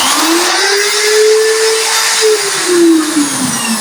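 A small DC electric motor from a motor-generator set spins up, giving a steady whirring whine that rises in pitch and then holds, close and loud throughout with no voices.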